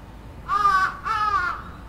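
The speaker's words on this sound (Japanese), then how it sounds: "あのカラス見てて。" Two loud, harsh crow caws close by, each lasting about half a second with a brief gap between them, heard alone with no talk.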